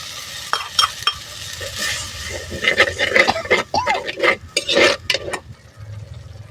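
Ground tomato goes into a hot pan for Tamil-style egg curry and is stirred, giving soft sizzling under repeated scraping strokes and light clinks of a spoon against the pan.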